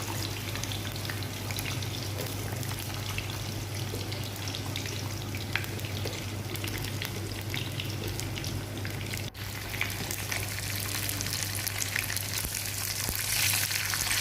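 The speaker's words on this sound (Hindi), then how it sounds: "तलना शुरू कर रही हूँ।" Fish coated in gram flour fries in a pan over a low flame, giving a steady close crackle and sizzle with scattered pops that runs throughout without a break, with no voices.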